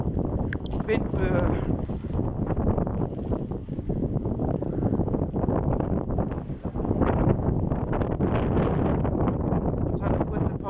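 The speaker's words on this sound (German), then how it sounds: "der Sturm hat jetzt wieder angefangen" Storm wind gusts from windstorm Luis roar outdoors, a continuous heavy buffeting rush with wind noise on the microphone, loud and close, under intermittent talk.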